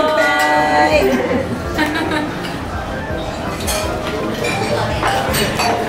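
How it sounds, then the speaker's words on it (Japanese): Glasses clink together during a toast, several bright chiming taps scattered over lively chatter and overlapping voices in a busy room. "乾杯。"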